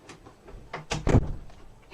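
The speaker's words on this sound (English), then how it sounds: "I am going to go and close my door." A door being shut at home: a short scrape and a dull thud, close by, with a few small knocks around it and no talking.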